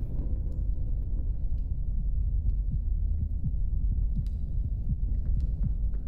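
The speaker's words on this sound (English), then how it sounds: "Why do I hear a heartbeat?" Low, steady heartbeat thumps pulse through a droning rumble in the horror game Forewarned, repeating in a regular rhythm at moderate volume with no talking over them.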